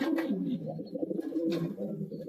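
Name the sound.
racing pigeon cooing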